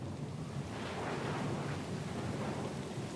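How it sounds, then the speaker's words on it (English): A thunderstorm in the fantasy game Pillars of Eternity 2: Deadfire, with steady rain and a low, rolling thunder rumble that swells in the middle; quiet and continuous, with no voices. "The storm's pretty loud."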